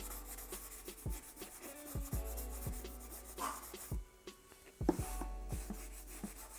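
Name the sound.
wiping oil paint glaze off a painting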